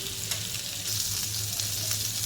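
Bangda (mackerel) fish shallow-frying in a pan, Konkani style, a continuous bright close sizzle and spatter with faint low hum, no voices present.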